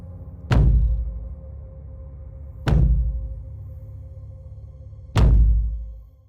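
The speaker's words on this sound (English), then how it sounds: "to Dad knocking on my bedroom door." Three heavy, slow knocks on a bedroom door land at the start, the middle and near the end, each a loud, close, booming thud with a lingering low decay and no voices.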